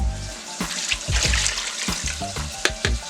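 Water is poured from a cup into a pot of stewed chicken, a steady splashing pour with a few sharper splashes and gurgles, close and moderately loud, with no talking.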